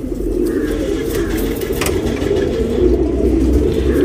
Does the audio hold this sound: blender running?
no